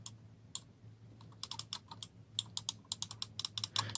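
Sharp, quiet clicks from a Soundbot SS301 gaming mouse, single clicks at first and then quickening into irregular bursts of rapid clicking, close up against a low steady hum.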